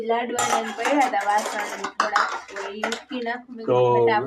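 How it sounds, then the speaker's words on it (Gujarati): Metal dishes clatter and scrape while being scrubbed, with a voice talking over the clinking throughout. "જો હું વાસણ ઉટકું હવાર હવારમાં"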